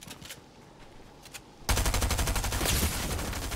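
Golden shotgun blasts in the Fortnite video game, a quieter stretch giving way at mid-clip to a loud, dense run of rapid gunfire that keeps going to the end without talk.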